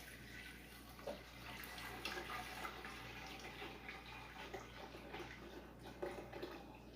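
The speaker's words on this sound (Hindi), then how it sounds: "हम तकरीबन 2 लीटर के करीब पानी डालकर" About 2 liters of water pours steadily into a cooking pot of beef for yakhni broth, a soft rushing splash, fairly quiet and continuous, with a few faint clinks along the way.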